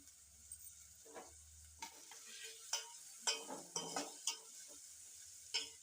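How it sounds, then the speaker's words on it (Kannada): Tomatoes dropped into frying onions for a ridge gourd palya: a run of quiet scrapes and taps of a spoon against the pan over a low sizzle, with several sharper clinks toward the end. "ಈಗ ಟಮಾಟೆ ಹಣ್ಣು ಹಾಕ್ಯಂತಾನೆ ನೋಡ್ರಿ."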